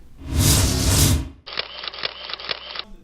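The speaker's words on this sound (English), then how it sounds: "That's the sound of the hundreds of pictures that were taken at Photo Fun Night" A burst of noisy rustle followed by a quick series of sharp camera shutter clicks, about five in a row, close and crisp.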